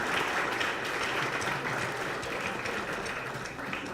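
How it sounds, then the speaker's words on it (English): An audience at a chamber of commerce awards ceremony breaks into dense, sustained applause that holds steady for the whole stretch, filling the room with no talking over it. "Give them a round of applause."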